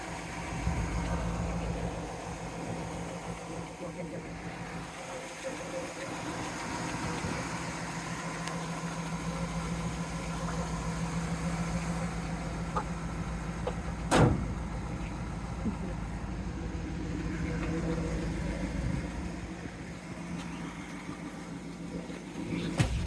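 A 1971 Pontiac Trans Am with its original 455 V8 and automatic transmission rumbles steadily, heard from inside the car as a low, constant engine drone with a brief clunk partway through and faint talk at times.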